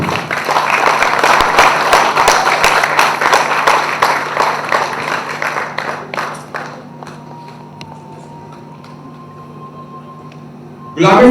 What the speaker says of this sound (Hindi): बहुत जोरदार तालियों के साथ हम स्वागत करेंगे, अभिनंदन करेंगे